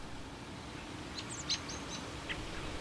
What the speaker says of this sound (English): Robins, too, that didn't really get along with each other.